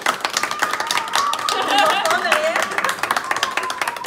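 A small group of dance-cover performers clap for themselves, with brisk scattered claps mixed with excited voices and talk over the top.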